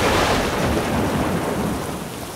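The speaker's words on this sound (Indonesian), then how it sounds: "hujan labek mengketutui." Heavy rain pours in a dense, steady roar, with low thunder rumbling beneath it, loud and continuous throughout and easing slightly toward the end as a backdrop for a Minang storytelling piece.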